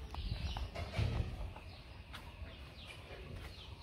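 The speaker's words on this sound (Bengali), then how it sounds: "মোরগটা এখানে বসে আছে।" A rooster sitting in a rural homestead gives faint, low clucks in a few short bursts, loudest near the start, against quiet outdoor background sound.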